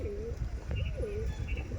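Madras pigeons from a loft being sold give a few soft, rolling coos in close succession, near and fairly quiet over a low rumbling background, with no talking.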